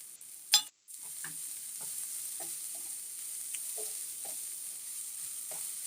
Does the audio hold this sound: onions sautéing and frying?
yes